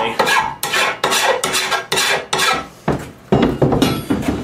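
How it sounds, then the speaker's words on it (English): A trapping tool being filed flat to take off the burr, a series of about nine sharp, close, loud rasping file strokes, each a short burst with brief gaps between, the last few quicker and scrappier. "So you just file it flat so that burr"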